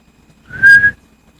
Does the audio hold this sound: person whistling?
yes